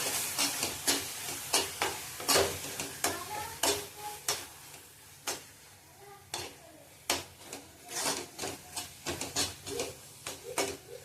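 Sliced cashews and almonds being sautéed in a pan during coconut vadi preparation, with repeated scraping stirs over a soft sizzle, close and steady, no voices.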